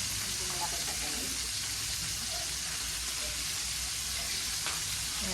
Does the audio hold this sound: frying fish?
yes